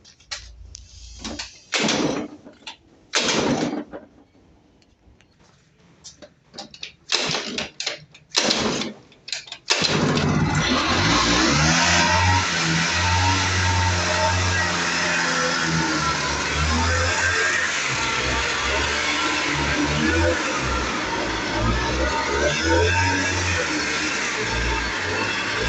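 An electric-converted Kinetic Honda scooter is switched on after a few seconds of scattered clicks and handling noises, then runs with a loud, steady, continuous drone that holds unchanged to the end.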